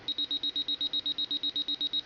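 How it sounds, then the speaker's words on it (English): A 1983 Micronta LCD alarm clock with projector sounds its alarm: a fast, evenly pulsed high electronic beep, about seven per second, steady and close. "That's the alarm."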